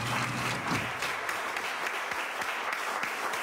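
An audience at an academic ceremony breaks into sustained applause, many hands clapping densely and evenly at a steady level throughout.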